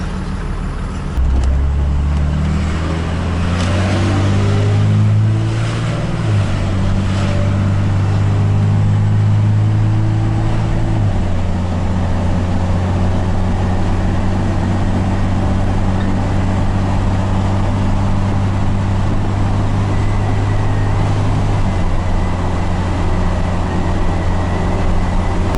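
A Ford truck with a Cummins 12-valve diesel swap and a towing tune drives along with a steady, loud, low engine drone that rises and shifts in pitch as the gears change, alone with no talk.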